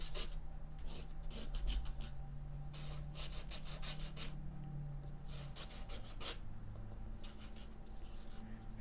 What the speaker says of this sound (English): sand off your blending stumps. You can sharpen them, sand them to clean them up a little bit.